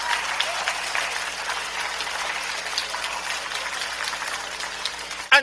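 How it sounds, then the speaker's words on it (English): An audience gives a round of applause at a health-sector event, with steady dense clapping at a moderate level over a low hum, ending in a brief louder burst. "I believe that the Honorable General Nisbet and the team at Health deserve a round of applause"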